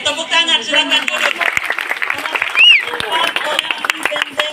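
A church congregation at a closing revival service in Central Sulawesi claps in bursts. A voice talks over the clapping and a brief whistle-like tone rises near the middle.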